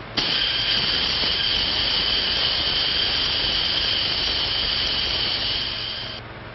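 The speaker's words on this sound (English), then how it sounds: "Turn on the steam." Steam hisses loudly and continuously after being switched on in a 1937 film scene, a steady bright rush that holds for about six seconds and then cuts off abruptly.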